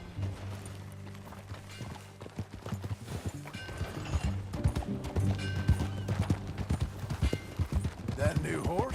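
Horse hooves clip-clop steadily in Red Dead Redemption 2 as a rider moves along at a walking pace, mixed with music and ambient game sounds throughout.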